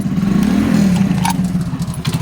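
A motorcycle engine, won in a lottery, runs with a steady low drone throughout, close by, with light rattling over it.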